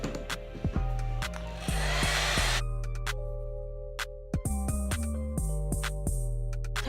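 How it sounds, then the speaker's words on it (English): A hair dryer blows steadily on a Brazilian kinky curly lace wig, its whooshing airflow switching on and off in bursts with brief handling clatter between runs. "Put that down, and I'm going to blow dry it."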